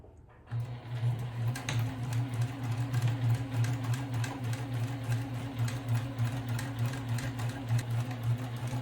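A sewing machine stitches fabric for a lunch bag, starting after a short silence and then running in a steady, rapid mechanical rhythm at close range, fairly quiet, with no talk.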